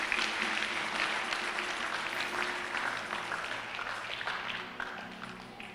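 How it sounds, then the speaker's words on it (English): Church congregation at a Tuesday deliverance service claps together in a sustained, even wave of applause that gradually eases off, moderately loud and filling the room. "Clap for Jesus, she's free."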